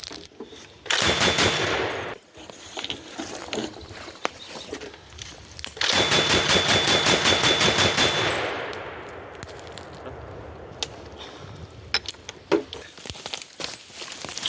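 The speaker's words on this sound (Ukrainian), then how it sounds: "Постріл." Bursts of rapid, heavy fire from an automatic grenade launcher thunder outdoors, two long volleys separated by a pause, followed by scattered clanks and rustling.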